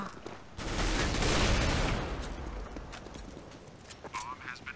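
Rapid gunfire in Counter-Strike: Global Offensive rattles out in a dense burst lasting about a second and a half, then fades to scattered clicks and mechanical sounds, with a voice talking over it.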